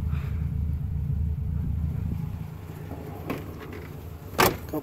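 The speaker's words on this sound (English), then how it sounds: "She runs smooth, she's just idling right now." A 1954 Ford Crestline's engine idles with a smooth, low, steady rumble close by, with a brief mechanical click and rattle near the end.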